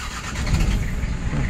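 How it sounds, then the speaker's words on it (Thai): A Toyota Mighty X pickup's engine cranks and catches, then settles into a steady, fairly loud idle with a low rumble, heard up close with no talking. "ติดเลยนะอันนี้สตาร์ทติดแล้วนะครับสตาร์ทติดแล้ว"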